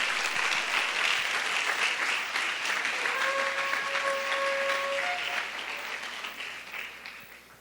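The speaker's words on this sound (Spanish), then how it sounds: "Dele una ofrenda de palmas al Rey" Church congregation applauding the King in worship, a steady, dense clapping that fills the room, with sustained keyboard or organ tones sounding beneath it, then thinning and fading toward the end.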